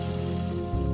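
Tomatoes sautéing in a pan for pav bhaji, a brief, dense, continuous sizzle heard close and fairly loud, with no voices.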